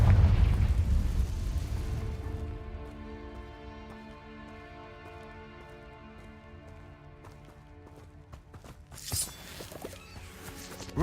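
A Confringo spell explosion in a Harry Potter video game bursts with a loud, rumbling boom, then rings out in a long shimmering magical tone that slowly fades before a second sharp burst near the end.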